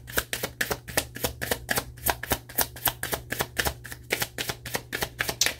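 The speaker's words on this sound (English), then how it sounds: "I'm going to pull one card from each deck" Tarot and oracle cards being handled and pulled from decks, producing a rapid, steady train of crisp flicking and slapping taps close to the microphone, with no talking.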